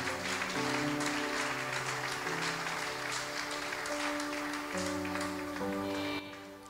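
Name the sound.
congregation applauding in church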